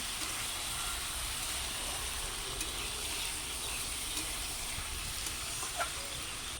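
Chicken pieces hitting a hot pan with green chilies, giving a steady, loud broadband sizzle and hiss that holds throughout with a few faint clicks, no voices.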